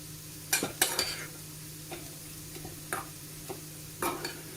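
Rice being stirred in a pan over a faint sizzle, with irregular spoon scrapes and taps against the metal, close but fairly quiet.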